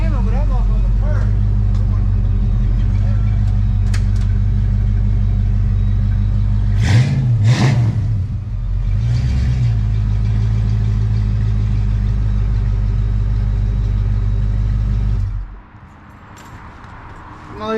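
A stock car engine idles with a loud, steady low rumble, briefly revving once before settling back; a person talks over it at times, and the engine cuts off near the end.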